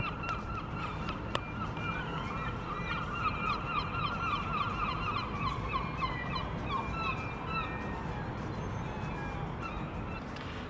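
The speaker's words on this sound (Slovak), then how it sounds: "A teraz hnusné čajky" Gulls call repeatedly in seaside Aberdeen, their harsh cries rising and falling over a steady roar of wind or surf, with no voices present.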